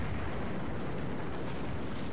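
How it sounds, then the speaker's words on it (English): A deep, rumbling explosion fills a Battlefield 4 battle, carrying a broad, sustained roar and crackling debris that holds steady and fairly quiet for about two seconds, with no voices. "he died in the explosion"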